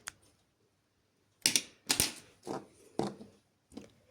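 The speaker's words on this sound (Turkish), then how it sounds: "Hemen ipini kesiyorum." Embroidery thread is snipped during Turkish needle lace work, giving a few sharp, close clicks of scissors in a quiet room, several in quick succession after a short pause.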